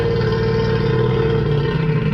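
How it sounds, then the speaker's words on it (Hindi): A deep, continuous rumbling call from a crocodile near a jungle water source, loud and close, holding steady for a couple of seconds with no other sounds over it. "क्योंकि वो एक क्रोकोडाइल की आवाज थी जो आपके आसपास मौजूद था"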